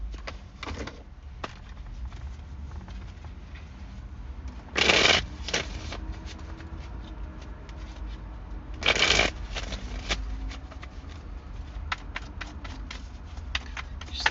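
Tarot cards shuffled and drawn close up, two loud riffling shuffles separated by softer handling, sliding and tapping of cards, with no talk.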